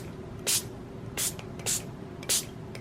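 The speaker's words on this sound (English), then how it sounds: "So this is when I take my spray bottle and I'm going to mist this about 5 or 6" A handheld spray bottle mists water in four short, crisp puffs spaced unevenly over a few seconds, close by and clear against a quiet room.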